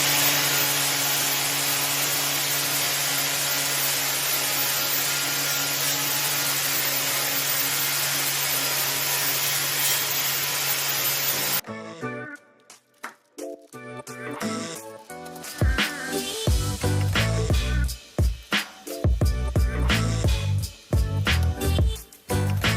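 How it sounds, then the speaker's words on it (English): A handheld grinding tool with a composite wheel grinds aluminum sculpture pieces in a loud, continuous whine that cuts off partway through, followed by clattering, scraping and knocking of metal parts being handled. "I'm going to be using a composite grinding wheel and this here grinding tool"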